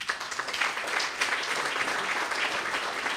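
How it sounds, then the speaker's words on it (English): An audience applauds at a growth coalition workshop in KwaZulu-Natal, a steady wash of many hands clapping together, fairly distant and even, holding at one level without pause. "We need to give a big round hand of applause to MTN."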